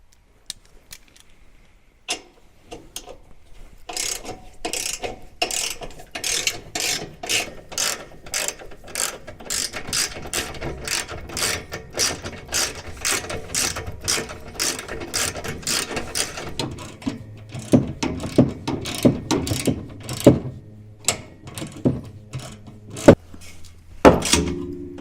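Hand ratchet backing out 14mm front bumper bolts on an off-road vehicle, a long run of sharp, rapid clicking bursts close to the mic, with occasional thunks of parts shifting near the end.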